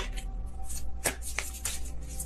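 Tarot cards are shuffled loosely by hand, giving a steady riffling rustle broken by a few sharp slaps and snaps of the deck, with no voices.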